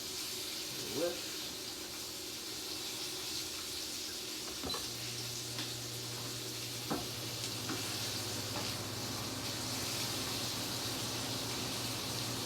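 An almond flour crusted salmon fillet fries in an oiled pan over medium heat, giving a soft continuous sizzle with faint kitchen clatter and a low hum partway through.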